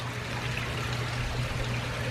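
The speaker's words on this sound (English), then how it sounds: "And then the sounds of the water in the gardens." Water flows and trickles steadily in a peaceful garden, a soft continuous splashing with a low hum beneath, heard without any speech.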